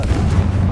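A Confringo blasting spell in Hogwarts Legacy, heard as a brief loud rumbling burst that stays dense and low-heavy from start to finish.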